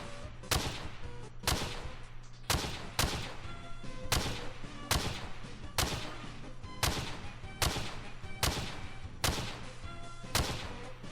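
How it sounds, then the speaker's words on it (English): Rapid gunfire from a weapon in the video game Unturned with the Vanilla Weapon Pack mod: about a dozen loud, sharp shots at a steady rhythm, each with a short ringing tail, and no talking. "And that's what the gun sounds like."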